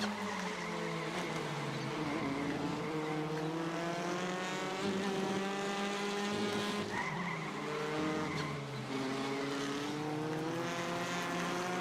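Race car engines in the iRacing Arcade video game drone steadily for the whole stretch, with rising and falling pitch as the cars follow close behind, and no talking.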